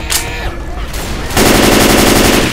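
Assault rifle fire in Left 4 Dead 2's Blood Harvest versus match: rapid, loud automatic bursts that break off briefly, then resume as a sustained stream of shots mixed with game sounds.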